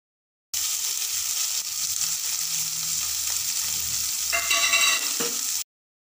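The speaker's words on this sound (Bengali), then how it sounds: "পরিমাণ মতো সর্ষের তেল দিয়ে মৌরি, কালো জিরা আর শুকনো লঙ্কা ফোড়ন দিয়ে দেব। ফোড়নটা একটু ভাজা হয়ে যাবার পর পেঁয়াজ কুচি দিয়ে দেব" Chopped onion hits mustard oil tempered with fennel, black cumin and dried red chilli, sizzling steadily and close, with occasional stirring clinks and scrapes of a utensil near the end.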